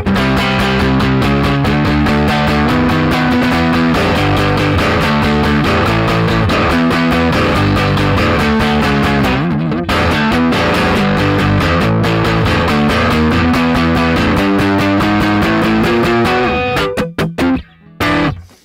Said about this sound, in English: It's not too much distortion, but it's still as much as you might want in a rock song